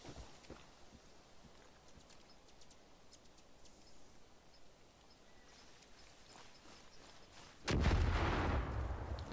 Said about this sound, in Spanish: Corramos como locos y veamos cómo explota.